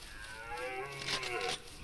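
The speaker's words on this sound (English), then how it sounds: "Why does it make a cow noise?" A deer in a Bigfoot hunting video game lets out a long cow-like moo, a single drawn-out low call that swells in the middle and ends abruptly, heard alone.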